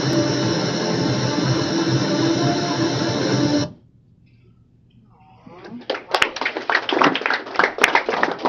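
An audience at a school board meeting gives loud, dense applause that stops abruptly, followed by near silence and then scattered, sharp claps and taps.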